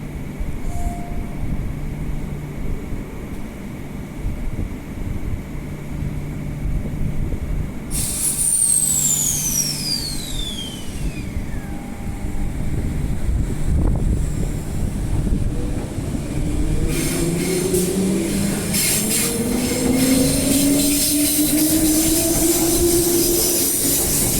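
A passenger train sits at a suburban platform in Perth's eastern line with a loud hiss of air brakes, rumbling and creaking wagons, then squealing wheels as it starts moving off.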